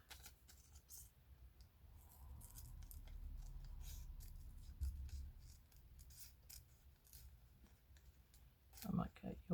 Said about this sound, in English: So at the moment I'll just cut that out for now.